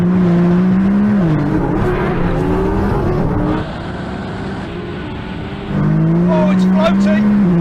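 A Nissan GTR, a modified Audi R8 and a modified McLaren 720S launch in a drag race. Loud, close engines roar and climb through gears with a steady high drone, and a voice talks over them.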